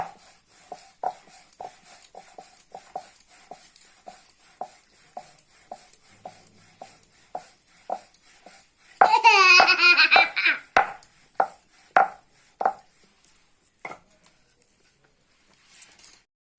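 A rolling pin works green peas parathas on a board, making soft, regular tapping knocks about twice a second. A brief burst of voice-like sound cuts in midway before the quiet taps resume.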